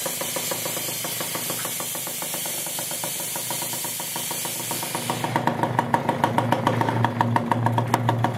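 A Kawasaki KX65 dirt bike engine idles close by at first, then steps up into a louder, rapidly pulsing run for the last few seconds.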